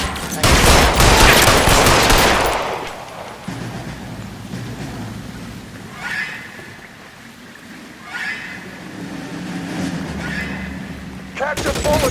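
Gunfire in a shootout in LA Noire Remastered, Case #26 "A Different Kind Of War": a loud, dense volley of shots at the start, then scattered, quieter single shots over the rest of the clip.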